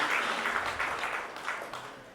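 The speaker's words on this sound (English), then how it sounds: "let the applause continue" An audience at a procurement leaders summit panel applauds, with dense, steady clapping that fades slightly toward the end.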